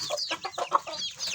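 Kukuak Balenggek chickens in a preservation coop cluck in a quick series of soft, repeated calls, moderately near and with no voices.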